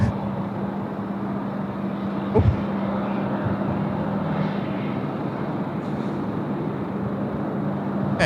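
A Korean Air Boeing 787-10 lands at Sydney Airport. A steady, broad roar of jet noise holds throughout at moderate distance, with a low hum underneath and a brief thump near the start.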